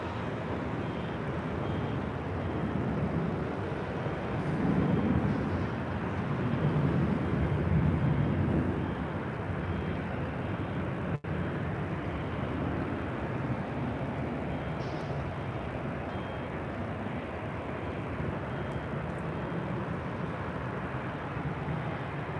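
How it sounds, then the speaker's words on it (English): An Alaska Airlines Boeing 737-800 takes off from LAX, a steady, fairly distant low jet roar that swells slightly and then holds as a broad rumble throughout. "This is Alaska 1219 taking off to Seattle on a 737-800."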